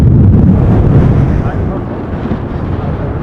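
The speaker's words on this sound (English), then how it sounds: "with a big tent over my camera catching wind." Strong wind buffets a tent sheltering a camera at Schiphol Airport during a storm, a loud, close roar of rumbling gusts that eases slightly after the first second.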